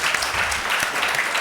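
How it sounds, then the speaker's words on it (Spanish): Audience clapping fills the room at a talk on populism in Spain, a steady, dense round of applause from a seated crowd that holds at even loudness throughout without breaks. "yo me sumo a los aplausos"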